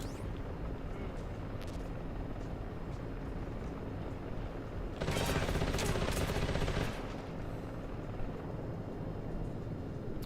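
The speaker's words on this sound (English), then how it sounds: "Problem is I can't take out that helicopter with this gun." Helicopter rotor drone with bursts of machine-gun fire in the video game Metal Gear Solid Delta, a steady loud mechanical rumble throughout and a dense, louder volley of gunfire for about two seconds midway.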